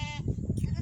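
Boer goats on a farm bleat at feeding time, one wavering bleat at the start followed by low, rumbling background noise.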